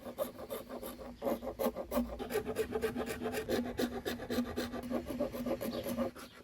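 A hardboard body for a Danelectro-style Telecaster guitar is shaped and sanded by hand with rapid, steady back-and-forth rasping strokes that keep an even rhythm throughout, close up with no voices.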